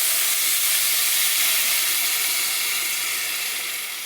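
Water poured into a hot pan of fried rice for pulao sends up a loud, steady sizzling hiss close by, fading slightly toward the end with no talk over it.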